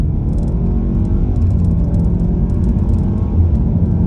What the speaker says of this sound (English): Pretty impressive acceleration in this 2022 Altima